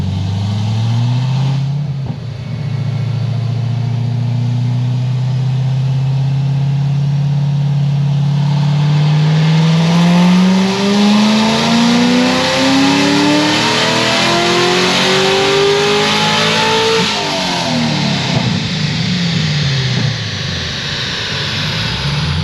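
A 1000-horsepower C6 Corvette ZR1 on methanol injection, with stock cam, revs hard and loud up and down over about twenty seconds, its engine note climbing steadily then falling back, with rasping exhaust throughout.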